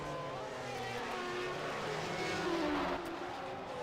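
Formula One cars racing and overtaking in a 1991 F1 racing game at the Canadian Grand Prix, a blend of buzzing, whining high-revving engines that swells slightly as one car passes, steady and without speech.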